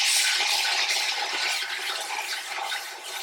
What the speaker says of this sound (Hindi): ये डालकर यहाँ पे प्याज को जो है फ्राई करते हैं।